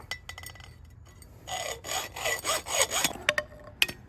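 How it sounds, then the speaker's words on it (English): Hacksaw worked by hand through metal, a few quiet tentative strokes followed by a run of rhythmic rasping back-and-forth cuts, close and fairly faint. "I'm gonna do it by hand with a hacksaw"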